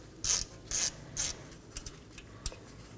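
A ratchet loosens a 10mm bolt holding the ABS wheel speed sensor on the steering knuckle of a 2015-2023 Nissan Maxima 3.5L V6, giving three clear clicking bursts followed by a few lighter ticks, close and quiet.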